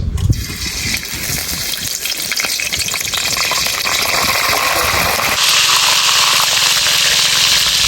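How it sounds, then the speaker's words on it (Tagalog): Talangka shore crabs deep-frying in hot oil make a loud, steady, close sizzling crackle that runs unbroken throughout, with no talk. "Ayan guys, magluluto na tayo ng ating deep fried talangka"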